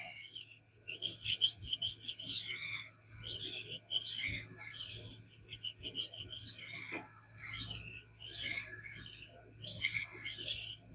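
A Gerber Sumo knife blade being sharpened on a King water stone that has been textured with a silicon carbide block. Rhythmic, close-up strokes rasp back and forth in repeated bursts with short pauses between passes.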